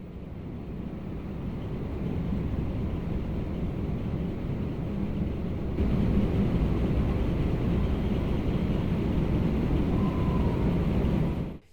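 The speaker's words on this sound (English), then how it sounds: "Joji comes in with a rescue helicopter and takes Kurohyou and Daigo to safety" A rescue helicopter in the video game Yakuza 3 makes a steady, droning engine rumble that holds at a constant level for about twelve seconds, then cuts off abruptly.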